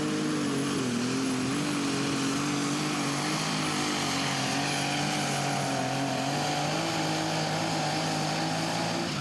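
Light weight super stock pulling tractor at a Franklin, Kentucky pull, its engine roaring loud and steady as it loads up under strain, with a constant harmonic drone that shifts slightly in pitch across the whole run.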